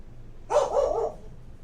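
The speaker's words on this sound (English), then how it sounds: "my dog must have heard the first clap of thunder" A single short dog bark sounds once from nearby, brief and sharp against a quiet background.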